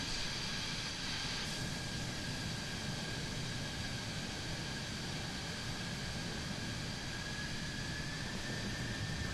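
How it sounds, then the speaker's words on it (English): A plane's engine in Microsoft Flight Simulator gives off a steady, faint jet-like roar and hiss that runs unbroken throughout, with a thin high whine over it. "I can actually hear his plane."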